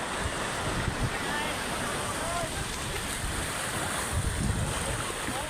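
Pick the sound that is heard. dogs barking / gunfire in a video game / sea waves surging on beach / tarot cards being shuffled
sea waves surging on beach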